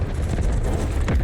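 A deep, rumbling explosion in the video game Delta Force fills the whole moment, a heavy roar of low noise with a slight flare near the end.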